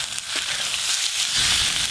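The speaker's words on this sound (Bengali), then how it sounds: "এবার ওপর দিয়ে টমেটো কুচিও দিয়ে দেব, দিয়ে আর একটু ভাজবো" Ginger, garlic, onion and chopped tomato sizzle and crackle steadily in a hot pan, with a loud, continuous frying hiss and occasional stirring scrapes.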